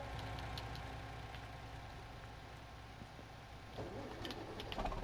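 A Fiat tractor engine in Farming Simulator 19 runs with a steady, low mechanical drone, moderately close, swelling slightly in the last second.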